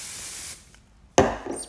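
A single sharp spray burst from a hair spray pump bottle onto frizzy hair, following a soft hissing stretch and a brief quiet, with a faint brushing rustle after.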